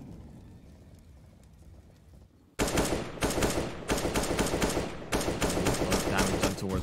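MAC-10 submachine gun fire in a Counter-Strike match on the Inferno map, heard as sustained rapid automatic bursts that start abruptly partway through after a quieter stretch of game ambience and stay loud to the end.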